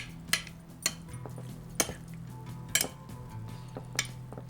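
Chicken being mixed with vinegar and salt in a bowl, giving a run of sharp clinks and taps of utensil on dish at irregular intervals over a low steady hum, with no voices.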